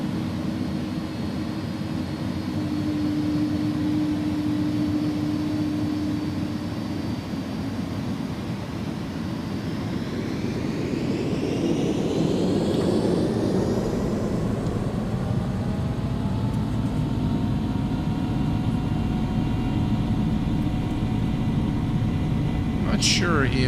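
An iniBuilds A310 airliner takes off in X-Plane 11, its steady engine roar building under a rising whine as it accelerates down the runway, loud and continuous throughout, with a voice talking at points.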